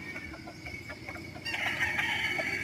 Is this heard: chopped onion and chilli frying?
no